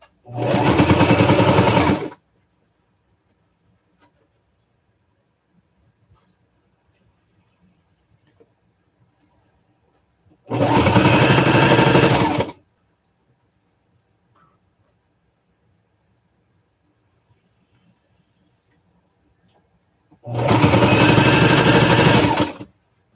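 A sewing machine runs in three separate bursts of about two seconds each, loud and close, with near silence in between.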